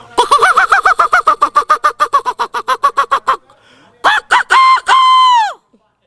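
A man imitates a rooster crowing, starting with a long run of rapid rhythmic clucking pulses, then a pause and several rising cock-a-doodle-doo calls ending in a long held note, loud and close.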